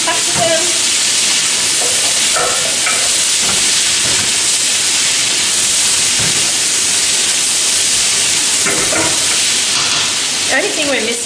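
Capsicum goes into a hot pan of mixed vegetables, including zucchini, for a stir fry. A loud, steady sizzle and hiss carries throughout, with occasional stirring clatters close by.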